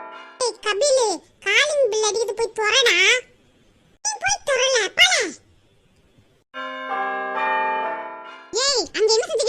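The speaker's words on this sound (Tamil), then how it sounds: "காலிங் பெல் அடிச்சிட்டு இருக்க, போய் திறங்கடி." Children chatter indoors, then an electronic doorbell plays a steady, bright two-second chime before the children start talking again.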